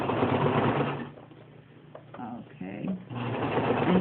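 A sewing machine runs in fast, even bursts as it stitches over gathered fabric at a sleeve seam. It is close and fairly loud, drops into a short pause in the middle, and soft talking can be heard underneath.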